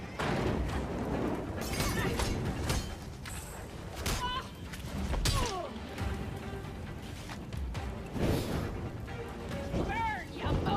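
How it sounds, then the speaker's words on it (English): Fireworks in a video game going off as repeated booming blasts and crackling bursts, irregularly spaced over a rumbling background, with voices talking over them. "Enjoying the fireworks."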